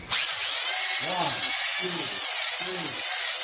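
A drill spins a ball hone inside a Ford 302 HO V8 cylinder from a 1994 SN95 Mustang, a loud, steady high-pitched whine lasting several seconds, with a man counting aloud under the noise.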